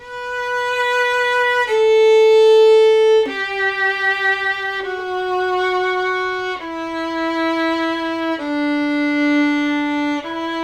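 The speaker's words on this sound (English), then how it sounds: "then the violins will come in with this descending scale" Violins play a slow descending scale, each sustained bowed note stepping lower in turn, with no voices.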